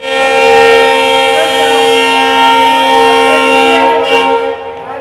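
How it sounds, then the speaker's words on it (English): Loud, sustained horn of the Chalukya Express, a Pondicherry to Dadar train, sounding at the Belagavi halt, a steady multi-tone blast that holds for several seconds before fading. "So exactly at 5:20, departing from our scheduled halt Belagavi."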